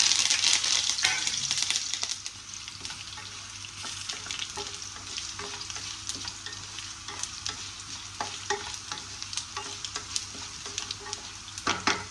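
A tempering for amaranth leaves sizzles in a kadai, an intense crackling burst at first that settles into a quieter steady fry with sharp little pops and stirring clicks scattered through.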